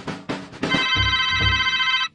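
A cell phone ringtone sound effect, a bright sustained electronic trill ringing loudly for over a second after a couple of short lead-in tones, then cutting off abruptly.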